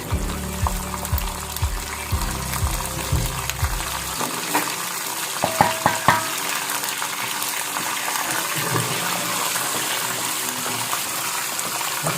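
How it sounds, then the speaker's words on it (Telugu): Peanuts frying in hot oil for tamarind rice, a steady dense sizzle and crackle running throughout at moderate loudness, with a few sharper clinks partway through and no talking. "ఇది వేగే వరకు కొంచెం బ్రౌన్ కలర్ వచ్చే వరకు వేసుకోవాలి"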